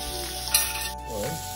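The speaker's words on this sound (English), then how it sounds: "it will sizzle a lot faster" Bacon sizzles in a pan with a soft, close crackle, a faint clink partway through, and a short murmur of a voice near the end.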